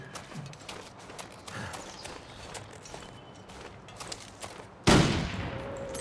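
Gunfire in a Marathi-commentated video game, with a steady clatter of shots and footstep-like thuds, then a sudden loud blast near the end that fills the mix.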